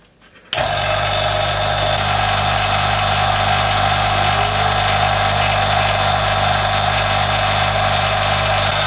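A vacuum pump starts abruptly and runs steadily for filtration during a large-scale iron oxide synthesis, a loud, constant motor drone with a strong low hum that continues without pause.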